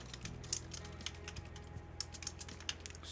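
Code being typed on a computer keyboard, with soft, rapid key clicks in a steady, close patter against a faint background hum.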